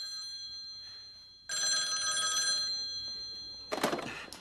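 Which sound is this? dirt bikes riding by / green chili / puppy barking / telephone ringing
telephone ringing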